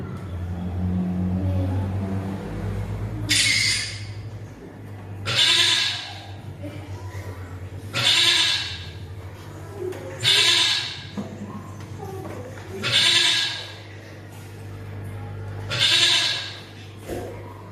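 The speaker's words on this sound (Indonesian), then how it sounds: "Kambing." Goats bleat loudly in several separate calls spaced a few seconds apart, over a steady low engine-like hum. They are shown as an example of livestock alongside cows and sheep.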